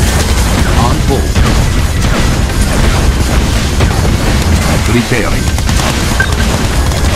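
Explosions from a base attack in the Red Alert 2 real-time strategy game, Mental Omega mod, with loud, dense booms and blasts over continuous battle noise as a game voice speaks over them.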